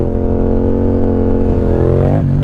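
A Yamaha MT-07 motorcycle revs hard up close during a clutch wheelie. The engine pitch climbs steadily, then drops sharply as the clutch is let out near the end, with a loud, raspy exhaust tone throughout.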